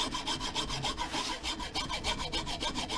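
Chisel working wood to expose the wedge in an old, dried-out axe, giving a steady run of close, rhythmic scraping and rubbing strokes with no talk.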